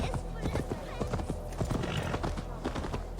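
Galloping horse hooves in the video game Assassin's Creed Valhalla, a steady rapid clatter of hoofbeats running throughout, close and fairly loud, with someone talking over it.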